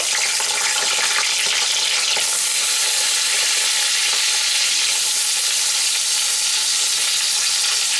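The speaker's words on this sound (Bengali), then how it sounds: "এবার আমি যে আলুটা কেটে নিয়েছি সেটা আমি দিয়ে দেব।" Cut potatoes fry in hot oil with a dense, loud, unbroken hiss and crackle, close up and steady for the whole stretch, with no speech over it.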